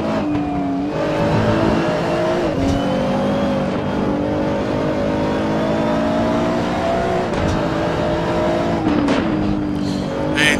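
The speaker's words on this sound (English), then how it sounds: "Riding along with Jack Ivy and the Nissan GTR car." A Nissan GT-R race car engine in a racing video game at the Vallelunga circuit drones loudly and steadily, its pitch rising and falling through gear changes, with brief dips as the car slows for corners.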